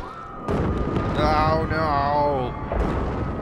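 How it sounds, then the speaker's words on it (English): Loud, rumbling explosions crash continuously through the game soundscape of Diablo Reaper of Souls while a voice shouts in alarm over the blasts. "Explosions!"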